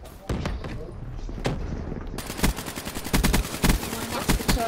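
Gunfire in Call of Duty: Black Ops III zombies mode: sharp repeated shots crackle in quick bursts, sparse at first then a dense rapid volley, loud and close over game background noise.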